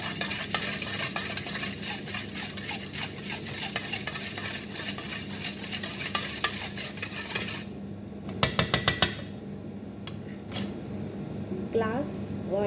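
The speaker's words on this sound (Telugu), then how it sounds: "ఇప్పుడు ఇది మిక్స్ చేద్దామండి." A spoon stirs a mixture with oil in a cooking pan, with steady scraping and clinking for several seconds, then a few sharp metallic knocks on the pan rim near the end.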